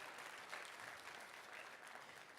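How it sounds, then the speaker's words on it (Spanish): Faint, distant audience applause at an Ethereum Honduras event, an even wash of many hands clapping that holds steady throughout without talk over it. "dámosles un aplauso"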